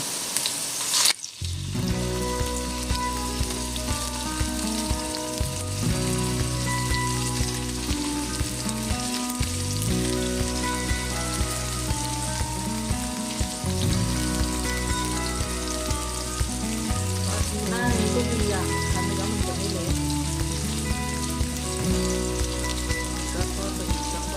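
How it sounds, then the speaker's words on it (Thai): Tuna fish frying in oil in a pan, a continuous bright crackling sizzle that stays fairly even throughout, set under steady tonal background music. "ก่อนอื่นเราก็ต้องทอดปลานะคะ เพราะจะได้ไม่มีกลิ่นคาว ทอดปลาให้สุกก่อน"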